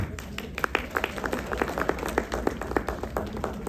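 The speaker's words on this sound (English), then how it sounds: "Appreciate and clap." A small group claps steadily for a few seconds, sharp hand claps coming in a quick, fairly even stream.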